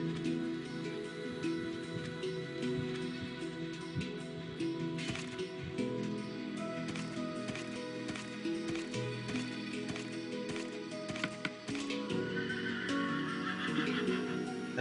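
A horse neighs and whinnies in a video game, a loud cry over busy game music and clattering effects that runs through most of the stretch, with hoof-like clip-clop mixed in.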